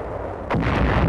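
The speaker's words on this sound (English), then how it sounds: "Suddenly, enemy shells from La Spezia coastal guns explode nearby." Shells from coastal guns near La Spezia exploding close by in 1945 wartime combat footage: after a moment of quiet hiss, one loud, deep blast bursts in and rumbles on.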